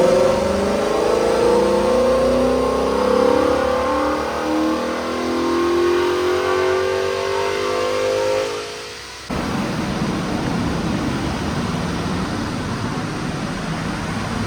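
A Hyundai Genesis 5.0 engine revs hard on a dynamometer, a loud sustained rising roar that climbs steadily, cuts off briefly around nine seconds, then continues as a dense, steady engine and roller drone.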